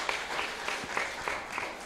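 An audience claps continuously in a steady, dense patter, moderately loud and fairly close, as a talk in a hall pauses for applause.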